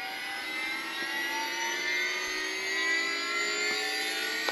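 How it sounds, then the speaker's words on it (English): Losi Promoto MX RC motorcycle flywheel spinning up with a thin, rising whine of many stacked tones that climb slowly in pitch, steady and moderately close, like a small jet. "You just switch that to on, and you can hear the flywheel winding up."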